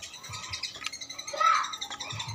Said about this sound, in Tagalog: Yeah, there's lots of birds here.